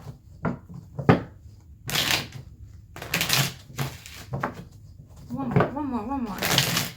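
Several bursts of tarot cards being shuffled, riffling in quick rustles between pauses, with a voice speaking in between.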